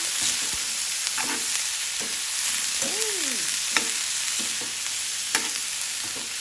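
String bean adobo frying in a pan while being stirred, with a steady sizzle and scattered clicks and scrapes of the utensil against the pan.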